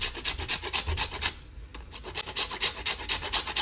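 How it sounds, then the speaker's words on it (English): Lime skin rasped on a fine grater for fruitcake zest, a close rhythmic scraping of quick repeated strokes with one brief pause partway through. "you only want to grate the skin. You don't want to grate the white part of the lime"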